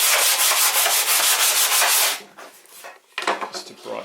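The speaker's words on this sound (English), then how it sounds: "whether I'm just going to give it a little bit of sand" Sandpaper rubbed by hand over scrap wood for a toolbox or under-sink caddy, in fast, even back-and-forth strokes, then a short pause and a few rougher, scratchier strokes, close and loud.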